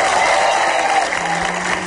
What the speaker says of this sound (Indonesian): Oke, kasih tepuk tangan dong